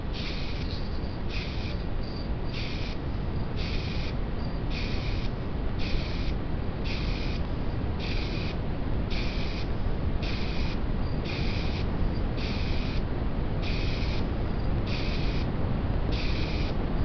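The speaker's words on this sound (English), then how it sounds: "spray-on acrylic sand and sealer to start with." Spray-on acrylic sanding sealer applied to a hand-turned faux hollow form, a steady close hiss broken into regular short pulses of spraying over continuous broadband noise, with no talking.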